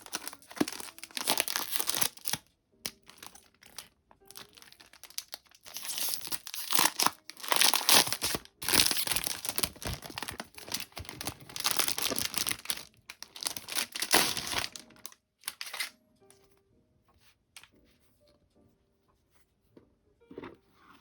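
Plastic wrap is torn open from a pack of tiles for the board game Glen More II: Chronicles – Highland Games, with close, bursty crinkling and tearing in repeated bouts before quieter handling at the end.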